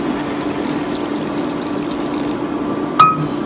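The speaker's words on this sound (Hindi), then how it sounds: "आराम से पानी देदबा" Water is poured into a pot of aloo dum cooking with onions and salt, a continuous gentle liquid pour with a brief louder clatter near the end.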